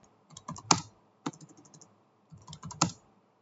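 A computer keyboard being typed on in short, uneven bursts of crisp key clicks, close by and fairly quiet, with brief pauses and no voices.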